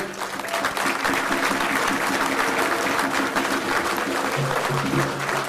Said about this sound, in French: Je voudrais qu'on applaudisse très fort toute l'équipe.